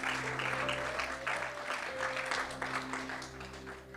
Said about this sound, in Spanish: dese un aplauso a usted mismo por todo lo que pasó hoy